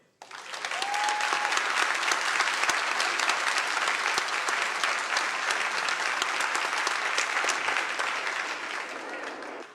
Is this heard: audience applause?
yes